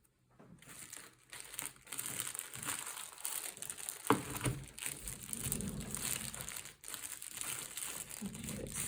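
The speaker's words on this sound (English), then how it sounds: "you'll need to get a little bit of tape" Clear tape crinkling and rustling as it is handled for a Christmas mint decoration, a steady close crackle with one sharp snap midway.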